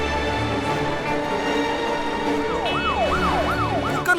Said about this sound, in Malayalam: ഇത്രയധികം പോലീസ് വണ്ടി എങ്ങോട്ടാണ് ഈ പോകുന്നത്?